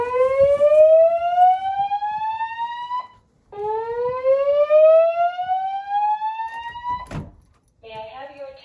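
Dormitory building fire alarm siren during a test: two long rising electronic sweeps, loud and close, each a few seconds with a brief gap, followed by a sharp click and a short pulsing tone.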